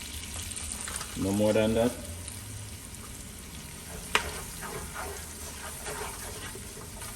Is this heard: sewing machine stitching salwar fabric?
no